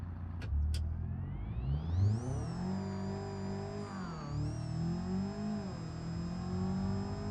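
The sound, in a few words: Ford Mustang engine revving in BeamNG video game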